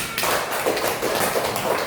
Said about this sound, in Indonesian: tepuk tangan kepada kelompok A